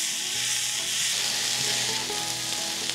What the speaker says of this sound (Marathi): आता हा कांदा आहे छान भाजून घ्यायचा, मस्त असा तांबूस रंग येईस्तोवर